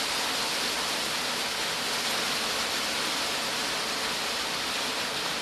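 Rain falling outside, a steady even hiss of drops holding constant and fairly soft throughout, with no voices.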